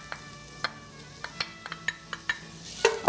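White onion sautéing in a pan, stirred with a utensil: a quiet, even sizzle under a string of sharp clicks and scrapes against the pan, closer and louder toward the end.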